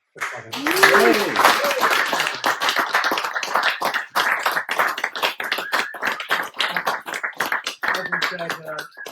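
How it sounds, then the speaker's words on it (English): Applause from an audience for speaker Alex at a talk in Totnes: dense clapping runs through most of the stretch, with voices and cheers rising over it near the start and again toward the end. "let's give Alex a huge big kind of applause"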